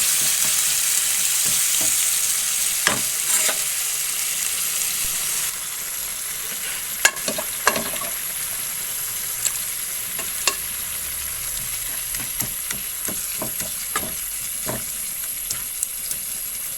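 Pre-cooked beef sizzles in a pan for beef curry while being stirred. A constant close hiss and sizzle carries through, punctuated by scattered scraping clicks from the stirring.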